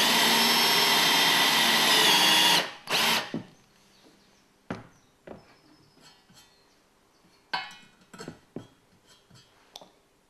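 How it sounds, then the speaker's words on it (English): A power drill spins an oiled countersink bit, cutting a countersink into metal such as aluminium or steel. A loud, continuous whirring grind lasts a few seconds, then stops abruptly, followed by scattered quiet clicks and handling knocks. "it will cut clean, accurate countersinks in aluminium, steel, stainless, perspex or fiberglass"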